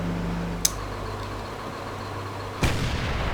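Tank cannon shots in a World War II tank video game featuring an SU-85B and a StuG, one sharp distant crack followed by a heavier boom over a steady engine drone.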